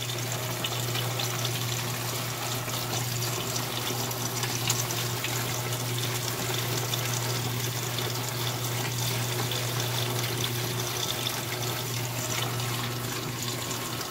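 An Electrolux LPR-series top-load washing machine, loaded with towels, filling with water: a steady, unbroken rush of flowing water with a low mechanical hum underneath, close and continuous throughout.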